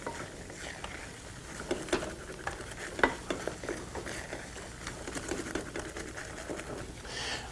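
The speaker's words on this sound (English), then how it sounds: "Don't forget to keep stirring." Chickpea flour for laddu being stirred in a pan, a steady scraping and shuffling with light patter and a soft sizzle running throughout, close and unbroken, with no talking.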